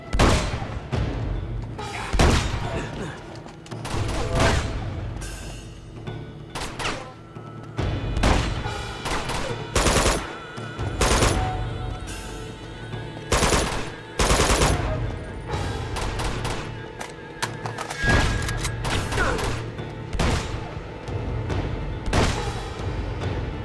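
Enemies firing on the player in the Uncharted 2: Among Thieves video game: loud, sustained gunfire with rapid automatic bursts and single sharp shots cracking throughout, close and dense, no talk.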